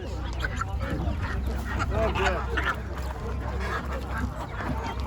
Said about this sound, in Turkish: Yerli gaz bunlar arkadaşlar işte.